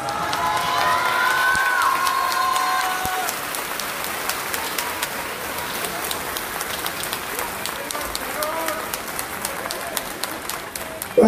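A festival concert crowd in Teoloyucan claps and cheers at moderate distance, with scattered hand claps over a steady crowd murmur and a brief whistle-like cry early on.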